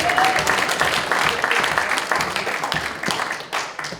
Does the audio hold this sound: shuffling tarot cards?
no